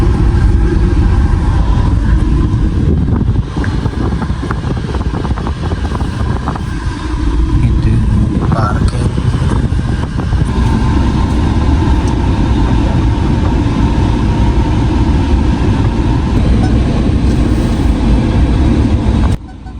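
Busy road traffic passing close by a small roadside canteen in Panvel, with a loud, unbroken rumble and whoosh of car engines for the whole stretch.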